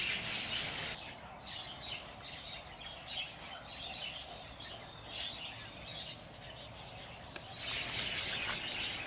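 Many birds chirp and call over drained rice fields. The faint, distant chatter of countless calls rises and falls in a steady wash, with denser bursts at the start and near the end.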